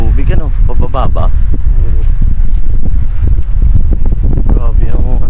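Steady gusting wind roars across the microphone outdoors in Saudi Arabia, a loud continuous rumble beneath intermittent talking.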